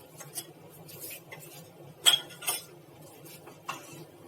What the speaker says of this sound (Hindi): अच्छे से इसे मिक्स कर देंगे।